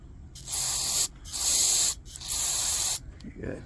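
Three long, loud aerosol bursts of carburetor cleaner sprayed onto the tip of an Air-O-Lantern generator, each a bright steady hiss about a second long separated by short gaps, close to the listener.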